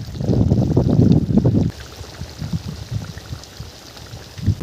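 Bhola fish curry in mustard paste bubbling as it boils in a pot: a loud, dense burst of churning bubbles at first, then it settles to a softer, steady simmering pop and gurgle.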